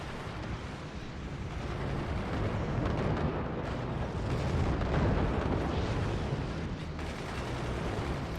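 Dense, continuous barrage of gunner fire and explosions in the video game Forts, a loud rumbling wall of blasts and booms with no pauses, heard without talk.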